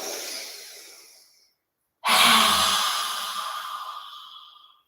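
A long deep exhale during a yoga stress-reduction session tapers away, then after a brief silence a strong deep inhale rushes in and slowly fades, close and breathy with no talking.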